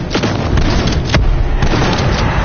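Death Machine gun firing in a PS4 video game: loud, dense, continuous booming fire with sharp repeated bursts, close and heavy throughout.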